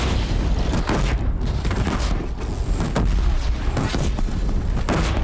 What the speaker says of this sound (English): Grab the disc launcher.